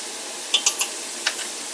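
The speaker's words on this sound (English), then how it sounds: "I like to add my seasonings and let them kind of cook down" Diced white onion with basil cooking in a pan, a quiet background sizzle broken by a few brief clinks and stirs of a utensil against the pan.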